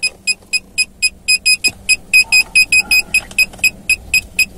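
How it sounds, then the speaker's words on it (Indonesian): A 2011 Honda Jazz 1.5 RS automatic shifted into reverse sets off its parking sensor, a loud, steady series of about twenty short, evenly spaced electronic beeps heard from inside the cabin. "maka ada sensor parkirnya di situ"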